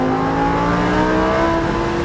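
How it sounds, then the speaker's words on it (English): Lamborghini Huracan accelerating hard on the Sonoma race track, a steady loud engine drone with rising harmonic pitch, heard close from inside the car with no talking. "Accelerate over the crest of the hill."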